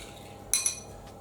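A spoon mixing vegan yogurt in a bowl makes two quick, light clinks close together against a quiet background.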